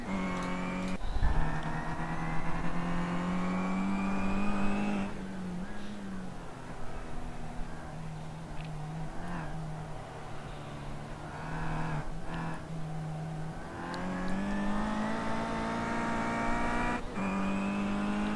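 Touring cars racing at Okayama in iRacing, BTCC 2013 machines droning steadily at high revs, engine note rising and falling through gear changes, with a commentator talking throughout.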